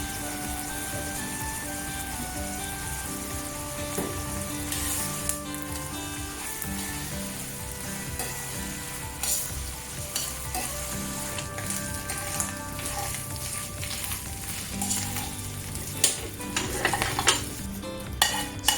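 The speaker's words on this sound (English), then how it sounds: "Stir fry the shrimp heads until fragrant and turn golden, which will take about 15 to 20 minutes." Shrimp heads stir-frying in oil in a pan for a shredded chicken noodle broth, giving a steady, close sizzle and crackle with scraping stirs and occasional metallic clinks of utensil on pan, with no voices.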